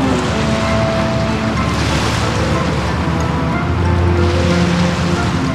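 A cruise boat travelling upriver on the Danube through the Wachau gives a steady wash of water and engine rumble, with wind and splashing waves holding even and fairly loud throughout.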